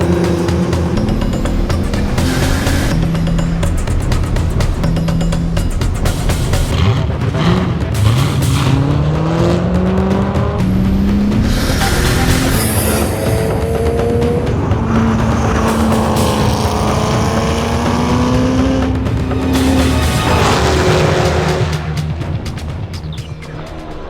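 Race cars in a project car challenge at Sebring roar around the track, engines rising and falling in pitch as they accelerate, shift and pass by, loud and continuous with overlapping cars.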